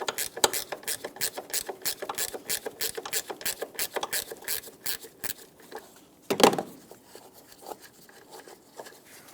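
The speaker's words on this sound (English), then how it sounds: "Then I'm going to use my ratchet wrench." A ratchet wrench turns 13mm strut nuts loose on a 2009-2014 Nissan Maxima strut and spring assembly, giving a steady run of close, rapid mechanical clicks with a brief louder clunk near the end.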